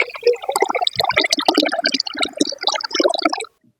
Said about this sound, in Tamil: தண்ணி ஊற்றி ஊற வச்சா போதுங்க